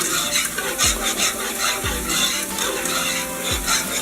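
A coconut curry fish stew stirred in a pot on high heat: a steady bubbling sizzle with repeated scraping strokes of a utensil across the pot bottom, close and fairly loud, with no voices.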